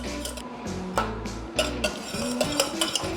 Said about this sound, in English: And you just keep whisking